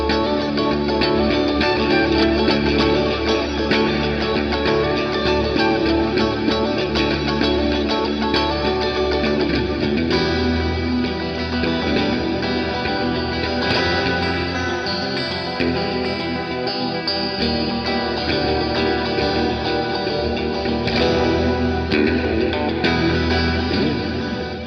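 Electric guitar played through a TC Electronic Hall of Fame reverb pedal set to a Cathedral sound, with dense, washy sustained chords and long, swelling reverb tails, continuous and loud with no talking.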